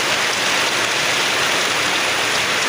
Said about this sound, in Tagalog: Ang lakas ng ulan mga kaibigan.